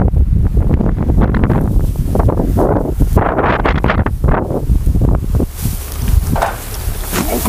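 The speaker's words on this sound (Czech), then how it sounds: "Fouknul vítr." Strong gust of wind blowing outdoors while hay bales are being loaded on a farm, a loud buffeting roar battering the microphone in uneven surges throughout, with rustling of straw.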